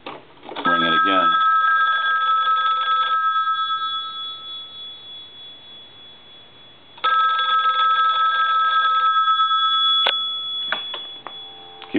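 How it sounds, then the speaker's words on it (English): A Western Electric 500 desk telephone bell rings loud and close in two long bursts, separated by a quiet pause, with a metallic clatter as each ring starts. "Ring it again."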